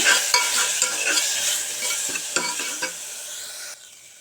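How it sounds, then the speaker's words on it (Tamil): A ground paste of onion, garlic, ginger and fennel sizzles loudly in a pan for coconut milk rice, with repeated stirring scrapes and clicks over the frying, then quiets near the end. "அரைச்சி வச்சுருக்கிற வெங்காயம், பூண்டு, இஞ்சி, சோம்பு, இந்த அரைச்சதை இதில் ஊற்றி இதையும் வணக்கிடுங்க"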